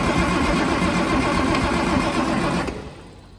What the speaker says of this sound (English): I'm gonna keep doing the starter in short bursts